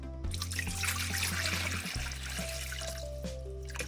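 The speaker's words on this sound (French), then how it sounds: "je vais commencer par mettre donc un demi-litre d'eau" Half a litre of water pours into a kitchen pot for cooking carrots, a steady close trickle and splash with a low hum beneath.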